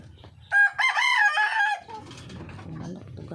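Rooster crowing nearby in a rural yard, one loud drawn-out cock-a-doodle-doo followed by quieter low clucking and background noise.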